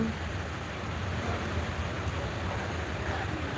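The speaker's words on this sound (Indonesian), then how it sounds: "Papua lagi hujan." Rain falls steadily in Papua, a continuous, even hiss of drops on surfaces with a low rumble underneath, with no voices.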